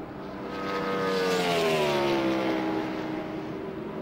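NASCAR race car at speed on the oval during 2013 Sprint All-Star Race qualifying, its engine note swelling as it nears and then sliding down in pitch as it passes, a steady loud roar with no talk.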